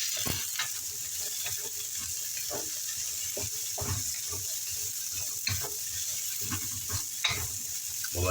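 Carrots and celery stir-fry in a pan with a steady sizzle, broken by repeated scraping and tossing strokes of a utensil close by.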